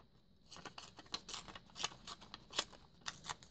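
Paper collage pieces are torn apart by hand, a series of quick, close rips and crinkles in irregular bursts, faint and alone with no talking.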